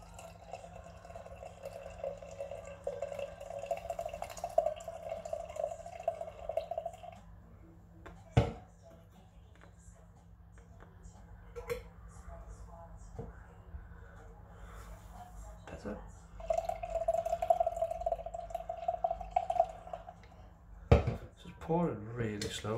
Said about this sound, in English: Pouring really slowly.